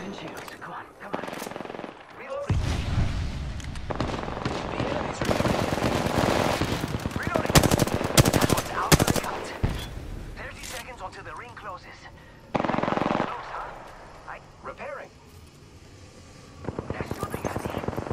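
Flatline assault rifle fire in Apex Legends comes in loud, rapid automatic bursts with short gaps between them, mixed with other gunfire and impacts, while voices talk over the action.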